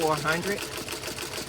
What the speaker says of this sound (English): Even though I'm running my machine at 750, because this is a wide satin stitch, it's slowing it down